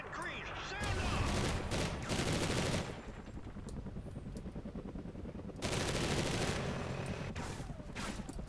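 Shotgun blasts and gunfire in the Call of Duty Ghosts video game, dense loud bursts in two clusters separated by a quieter stretch of lighter firing.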